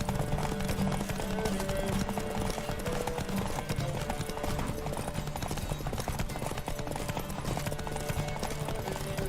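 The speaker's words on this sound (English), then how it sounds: "Don't spare the horse!" Hooves pound in a fast, continuous galloping rhythm in The Witcher 3, loud and close, with a busy background of wind and motion throughout.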